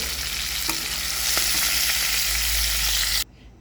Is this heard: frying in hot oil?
yes